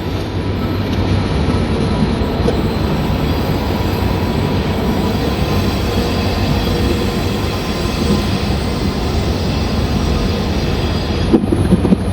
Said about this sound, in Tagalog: Oh, daming train dito